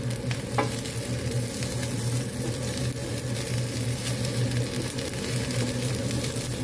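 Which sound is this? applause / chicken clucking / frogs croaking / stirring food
stirring food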